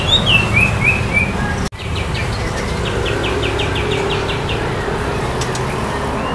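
A female spotted magpie-robin, the murai trotol, sings close by in clear repeated whistled phrases and chirps, with a steady background hum beneath.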